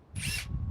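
A Metabo power drill whirs in a short high-speed burst of under half a second while driving a 5-inch number 5 grip fastener, near and fairly loud, then stops.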